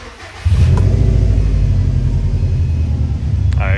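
A Subaru engine idles loudly up close with a steady low rumble and faint squeal from a worn power steering belt, heard outdoors with no talk.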